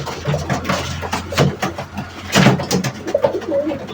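Pigeons cooing nearby in a loft, soft repeated throaty coos that rise and fall through the clip, with a faint engine-like hum underneath.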